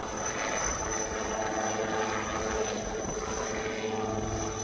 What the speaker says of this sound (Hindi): सेना और एनडीआरएफ की टीम हेलीकॉप्टर से रेस्क्यू को अंजाम तक पहुँचा रही है।